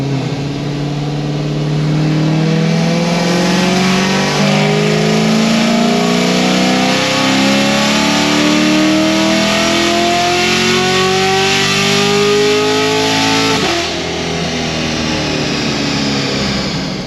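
A Camaro SS's naturally aspirated LT1 engine revs continuously on a dyno, pitch climbing steadily for several seconds, then drops sharply as it auto-upshifts, loud and close.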